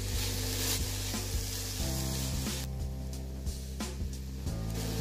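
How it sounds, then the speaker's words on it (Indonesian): Chopped vegetables sizzle and crackle while being stir-fried in a hot pan, with steady frying hiss and intermittent scraping and clattering strokes of a spatula stirring the filling, close and continuous. "Aduk sampai sayurannya sedikit agak layu"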